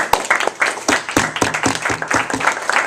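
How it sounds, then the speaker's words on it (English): Scattered applause rings out at a university policy debate on fracking, a small group clapping in distinct, fairly close claps with an uneven rhythm and no talk over it. "Let's give them a nice round of applause."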